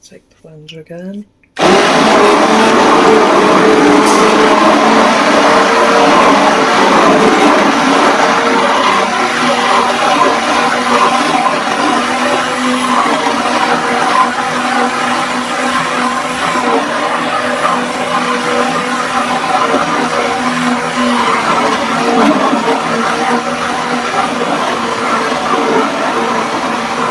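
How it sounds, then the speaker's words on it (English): A blender blending rhubarb whirs loudly and continuously for nearly half a minute, a steady high-pitched motor drone starting abruptly after a brief quiet moment. "Take the blender again."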